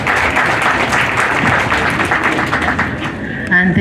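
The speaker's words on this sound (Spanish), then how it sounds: "Vamos a recibirla con fuerte voto de aplausos a la señora Norma Guamaliano." Wedding guests applauding at a religious wedding ceremony in Huaraz, a continuous loud burst of many hands clapping, with voices mixed in and a brief clatter near the end.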